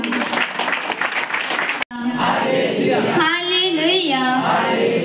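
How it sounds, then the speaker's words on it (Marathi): A church congregation at a prayer centre bursts into loud clapping for a couple of seconds, then it cuts to a strong voice speaking or chanting. "आपण जोरात टाळ्या वाजवून प्रभू येशूला धन्यवाद देऊया।"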